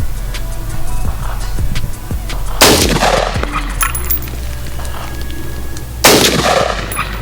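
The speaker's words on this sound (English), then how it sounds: "So shooting the AR-15, it is 60 so yards." AR-15 rifle shots fired at a target about 60 yards away outdoors: two sharp, loud cracks several seconds apart, each with a brief echoing tail over a steady low background rumble.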